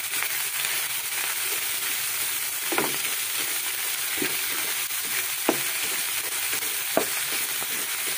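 Ground pork frying in a pan for a vegetable dish, a dense steady sizzle with a few sharp clicks of a utensil, close and continuous, with no talking.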